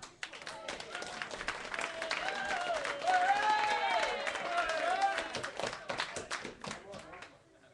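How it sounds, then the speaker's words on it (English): Applause from an audience welcoming a comedian onto the stage at a music venue, moderately loud clapping mixed with crowd voices and whoops, swelling in the middle and then thinning to scattered claps. "give him a massive round of applause"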